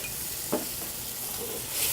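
Crab stuffing with crab and brie bisque is stirred in a hot pan in a restaurant kitchen, a steady sizzle with one sharp scrape of the utensil, close and without talk.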